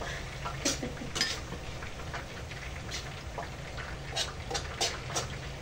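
Pancit bihon rice noodles are tossed and stirred in a pan, with soft scrapes and clinks of the utensil against metal over a low, steady background hiss. The sound is fairly faint and no one speaks.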